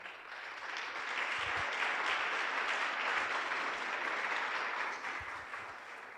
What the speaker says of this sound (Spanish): me alegro de los aplausos